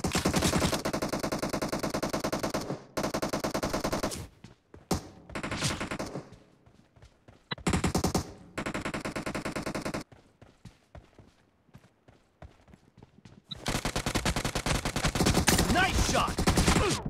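Rapid automatic gunfire in the battle royale shooter PUBG, long loud bursts of close rattling shots broken by quiet gaps and a few single cracks, ending in another sustained burst.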